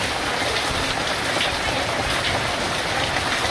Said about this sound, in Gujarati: આપણી પાસે વરસાદ લાઈવ ચાલુ જ છે